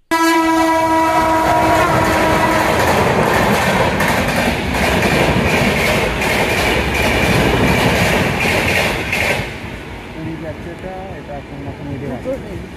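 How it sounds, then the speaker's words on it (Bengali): Two trains, one up and one down, passing a level crossing together: a loud horn blast opens over heavy rumbling wheels and rhythmic clattering of cars close by, fading to quieter traffic and background noise near the end. "দুটো ট্রেন একসঙ্গে যাচ্ছে"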